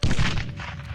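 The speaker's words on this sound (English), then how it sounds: "You can hear the war going on all around you, people running across beams overhead, shooting, even the occasional artillery strike." In the war video game 1916, a heavy boom of gunfire or an artillery strike hits hard at the start and then rumbles away over about a second.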